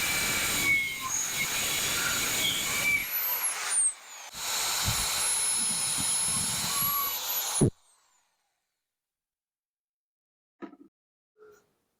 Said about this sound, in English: I'll use my handy dandy Rockwell saw and just cut about inch here and inch and a quarter deep of this 4x4